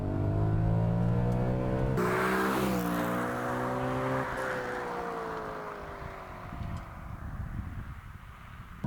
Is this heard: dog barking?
no